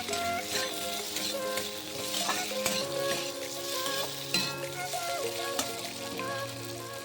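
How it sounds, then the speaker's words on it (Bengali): Potatoes fry in a pan with a continuous, close crackling sizzle while occasional stirring scrapes break through the steady hiss, with no voices. "আমি আলুটাকে আরও ভালোভাবে ভাজার জন্য ঢাকা দিয়ে দেবো।"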